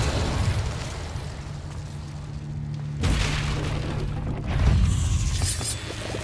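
Spell explosions in Hogwarts Legacy from Confringo and Incendio casts, a series of loud booming bursts, one sharp blast then another heavier one, over a low rumbling hum during combat.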